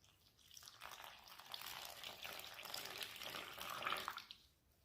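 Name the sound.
pouring water into a well of flour for pizza dough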